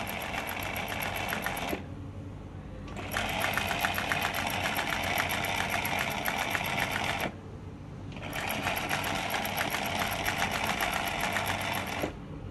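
A Singer 107w100 industrial sewing machine stitches eyelet embroidery in three loud, steady runs of fast rhythmic whirring and clatter, each separated by a short pause.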